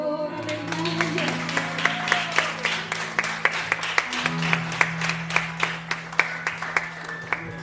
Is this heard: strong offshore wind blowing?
no